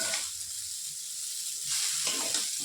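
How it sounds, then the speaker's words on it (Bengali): Vegetable chowmein with cabbage and Maggi masala stir-frying in a pan, giving a steady close hiss of sizzling with brief tossing swells. "বাঁধাকপি আর সাথে আর ম্যাগি মশলার সাথে এটাকে একটু নাড়িয়ে চাড়িয়ে নিচ্ছি"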